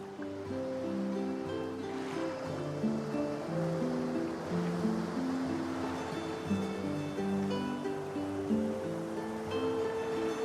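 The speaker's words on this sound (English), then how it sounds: "A few tranquil moments pass as the waves lap against your thoughts." Ocean waves lapping in a calm seaside ambience from the video game Divinity Original Sin 2, a steady soft wash of surf under low sustained background music tones, with no voices.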